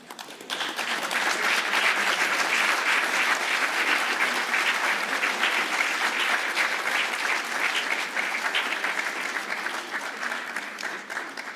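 Sustained, even applause from a large conference audience at an engineering conference, rising quickly after a brief pause and holding steady for about ten seconds without talk on top.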